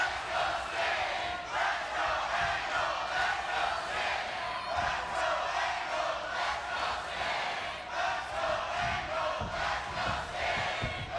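A divided wrestling arena crowd in the Impact Zone at TNA Hardcore Justice 2011, cheering for champion and challenger in a main event title match, loud and continuous with rhythmic rising chants.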